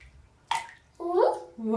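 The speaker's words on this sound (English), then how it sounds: "This is a lot of water." Bathwater in a tub splashes and sloshes around a toddler during bath time, with brief bursts of movement, while a voice and babbling are heard close by.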